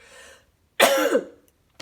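A single loud, harsh cough bursts out after a moment of quiet, close to the microphone, trailing off into silence.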